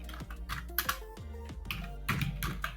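Fingers typing on a computer keyboard, a quick irregular run of close, crisp key clicks with short pauses between bursts.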